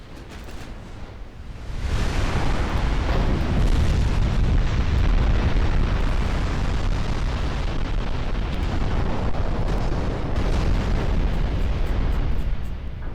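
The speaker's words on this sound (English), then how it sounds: "the 10-inch guns have hit something" Ten-inch naval guns boom and shells burst in a naval warfare game, a sustained loud roar of overlapping blasts and rumbling explosions running for several seconds without letup.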